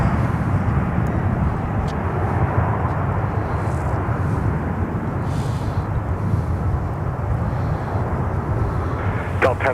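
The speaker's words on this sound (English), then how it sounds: "Looks like we have the A330-200 doing a little taxi over here." An Airbus A330-200 taxis at Minneapolis–St. Paul airport, its engines a steady, broad jet rumble and hiss that holds level throughout, heard from a moderate distance with no voices over it.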